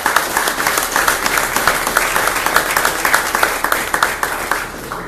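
Audience applause at the presentation of a book of short stories, a dense and steady clapping from a crowd at close range. The clapping holds at an even loudness for several seconds.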